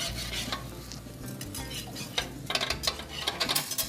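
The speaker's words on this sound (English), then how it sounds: "So now what I'm doing is I'm infusing the actual pecans with the bourbon." Pecans flambéing with bourbon in a pan give a steady sizzle and low roar of flame, then a run of quick utensil clicks and scrapes near the end.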